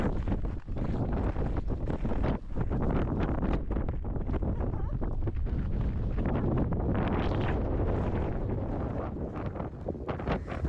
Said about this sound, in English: The wind and the snow were just so crazy outside.